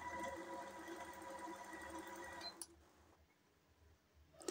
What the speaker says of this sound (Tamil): ஸோ இந்த இடத்துல வந்து நான் டபுள் ஃபோல்ட் பண்ணி ஸ்டிச் பண்ணுறேன்.